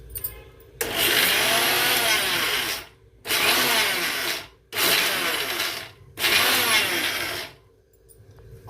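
A mixer grinder grinds urad dal in three long loud bursts with brief pauses between them, a steady high whirring motor and churning batter, with no voices.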